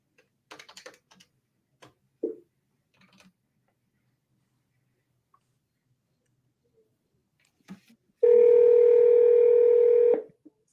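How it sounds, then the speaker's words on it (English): Touch-tone keypad presses as a phone number is dialed, a few scattered short beeps followed by a long steady ringback-like tone lasting about two seconds, close and clear with no talking. "I'm always worried I'm going to dial the wrong number."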